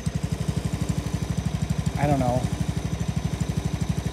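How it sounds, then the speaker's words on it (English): A John Deere 160 lawn tractor engine runs at a steady, rapid idle, close and loud, its even putter continuing through a short spoken remark. "But I bought this lawnmower"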